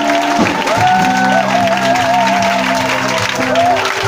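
A church congregation claps and acclaims God during a royal enthronement service, with steady, loud applause running the full length alongside sustained voiced or musical tones.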